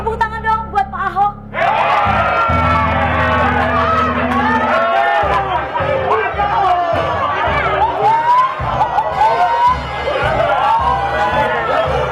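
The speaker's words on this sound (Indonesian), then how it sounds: "Tepuk tangan dong buat Pak Ahok." An audience applauds and cheers for Pak Ahok at an indoor gathering; a loud, sustained wall of crowd noise, cheering and scattered clapping, with a tonal hum underneath.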